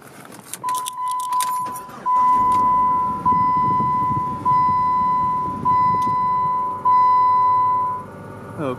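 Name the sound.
car ignition being turned on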